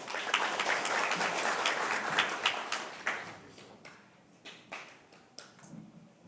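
Audience applause at a policy forum on digital piracy and copyright education, a full burst of many clapping hands that thins into scattered individual claps and fades out.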